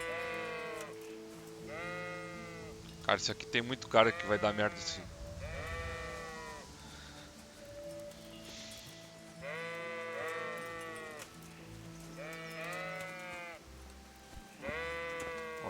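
Several sheep bleat repeatedly in the medieval game Kingdom Come Deliverance, wavering cries near and farther off, while someone talks briefly over them and a short burst of clattering noise passes early on.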